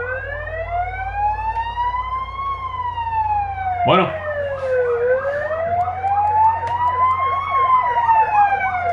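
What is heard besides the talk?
fire engine sirens blaring outside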